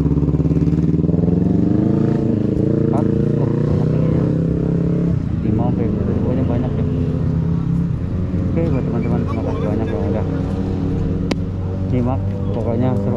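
Motorcycles with racing exhausts idle and rev loudly nearby, a throaty rumble that rises and falls, with people talking in the background at a group Sunday-morning ride.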